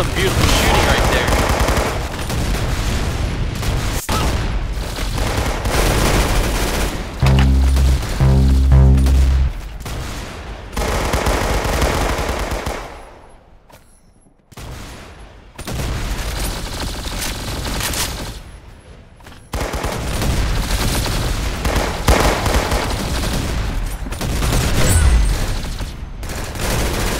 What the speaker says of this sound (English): some beautiful shooting right there